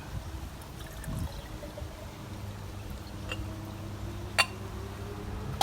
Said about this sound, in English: And pour your water into your jar.